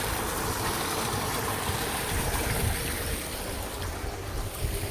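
Irrigation water flows through a farm field in a steady, broadband rushing wash with no clear pauses, moderately faint and continuous, with no voices over it.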